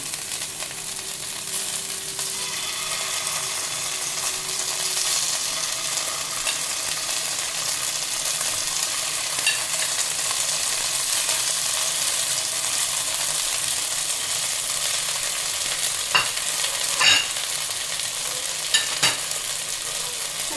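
Chicken pieces sizzling on a pan greased with a little margarine, a steady close frying hiss that runs throughout with a few faint clicks and scrapes near the end.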